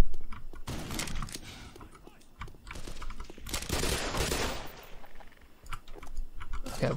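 Turret gunfire in the video game Half-Life, heard as dense bursts of rapid shots and clatter rising and falling across the clip, loud and close.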